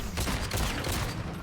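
Rapid gunshots ring out in a Mortal Kombat 1 fighting game match, a dense burst of sharp cracks over the game's background noise.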